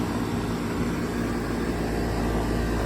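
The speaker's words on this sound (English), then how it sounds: "This is the 2004 4-ton Goodman running. It's got a Copeland scroll compressor," A 2004 Goodman 4-ton air conditioner with a Copeland scroll compressor runs close by, giving a steady, dense broadband hum and whoosh with no pauses.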